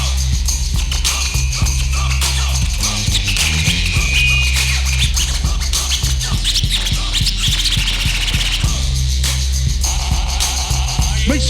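Turntable scratching from a DJ at a live hip-hop beach show, loud and continuous with rapid rubbing back-and-forth strokes over a heavy steady beat and bass throughout.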